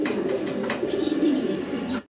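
Pigeons cooing close by in a continuous low, throaty, rolling murmur lasting about two seconds before cutting off abruptly.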